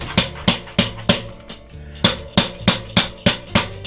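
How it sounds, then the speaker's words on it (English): Glass spawn jar of grain kernels struck against a tire, about a dozen sharp thumping whacks in an uneven rhythm with a brief pause midway, close and loud with no talking. "about 10 or 12 whacks on the tire"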